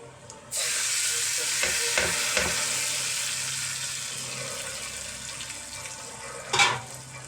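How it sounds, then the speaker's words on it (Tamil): Hot tempering oil poured into snake gourd chutney sets off a loud, broad sizzle that starts abruptly and hisses steadily, with a few spoon scrapes and a brief louder burst near the end. "சட்னியை தாளிச்சுக்கணும்."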